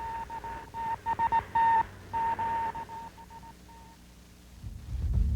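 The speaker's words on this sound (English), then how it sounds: "Spelling out the Morse code, Daly read the name HMS Titanic." Intermittent tonal beeps like a Morse code SOS distress signal from a sinking vessel at sea: short and long pulses in an uneven rhythm over faint radio hiss, trailing off into a low rumble at the end.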